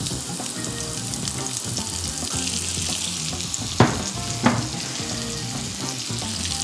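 Chopped onion sizzling in hot rendered pork fat for borscht, a dense, steady frying hiss up close with two brief clinks from stirring.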